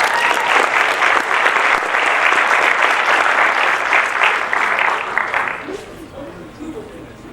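An audience at a high school winter sports awards night applauds the swimming and diving MVP, a loud dense wash of clapping that fades out near the end.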